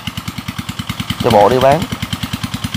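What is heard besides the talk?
motorbike engine running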